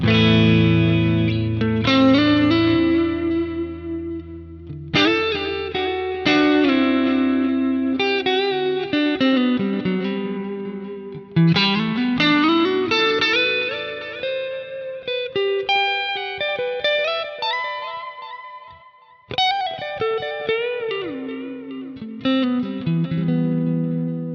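An electric guitar plays a melodic lead line with a clean, slightly pushed amp tone, chorus off, on a Quad Cortex using a preset, notes sustaining and bending, no voices.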